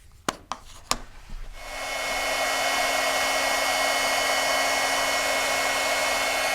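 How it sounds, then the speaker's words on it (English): A heat tool runs to melt embossing powder on paper, starting after a few sharp taps and handling clicks and then settling into a loud, steady blowing hiss with a faint motor hum underneath. "And now I'm going to use my heat tool and I'm going to emboss that."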